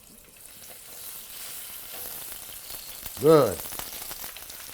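Chicken skin frying until crispy in a pan, a soft continuous sizzle close by with a single short word spoken partway through.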